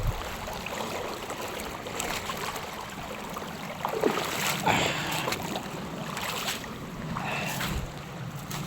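Floodwater rushing past a collapsed bridge choked with piled-up timber debris, in a river that has overrun the crossing. The water gives a broad, steady roar with gusty wind buffeting the microphone, sustained without speech.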